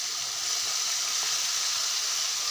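Steady, dense sizzling of spices dropped into hot oil with frying onions, a continuous bright hiss close up with no speech.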